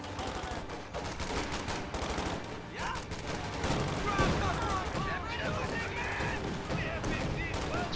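Video game gunfire crackles as grenadiers engage two enemy squads at range, dense bursts of rapid shots and booms layered into a constant battle din, with a voice talking over the fighting.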